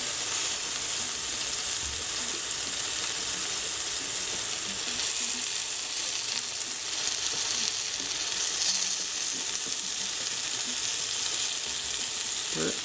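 Thin chicken cutlets sizzle and fry steadily in a pan for chicken piccata, a continuous close hiss of hot oil with faint crackles and no talk.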